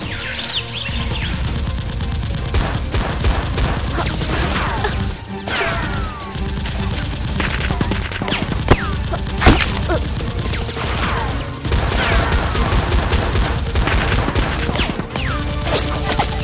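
Toy foam-dart blasters fire in a Nerf war staged as a police squad battle, a dense run of rapid pops, clacks and whooshing darts, with crashing impacts and steady rattling for about sixteen seconds, close and loud.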